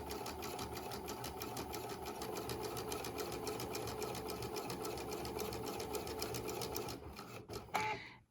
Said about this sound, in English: we're going to sew down the length of our fabric at 5/8 of an inch.